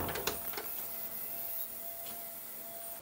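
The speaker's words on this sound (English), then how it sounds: "It does have a certain screech because it is an ultrasonic cleaner" A Humminguru ultrasonic vinyl record cleaner runs inside a laundry closet, giving off a faint steady screeching whine with a few soft clicks near the start and no talk.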